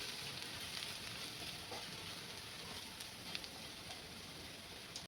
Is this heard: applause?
no